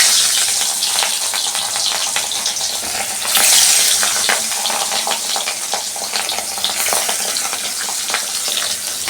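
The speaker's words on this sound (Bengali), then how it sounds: "ভালো করে কড়া কড়া করে মাছটাকে ভাজতে হবে" Fish frying until crisp in hot oil, a steady loud sizzle and crackle with brief surges of spitting, continuous throughout with no voices.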